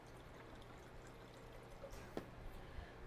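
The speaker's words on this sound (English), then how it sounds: "Let's pour us a little bit more" Red wine trickles softly into a glass in a quiet room, a faint liquid pour with a small clink near the end.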